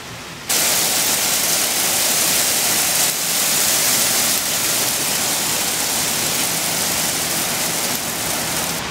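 Heavy rain pours down outside a garage on New Year's Day, a loud, dense, even roar that starts abruptly and holds steady without pause.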